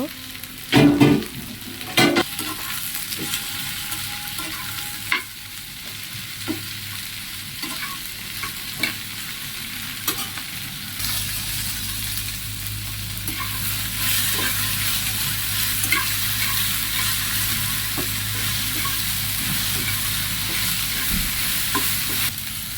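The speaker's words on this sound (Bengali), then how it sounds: "এখন ভেন্ডি দিয়ে দিব। দিয়ে ভেজে নিব।" Okra frying with onions in oil in a home kitchen: early clattering utensil knocks and stirring scrapes give way to a steady, close frying sizzle that grows fuller and continuous through the second half.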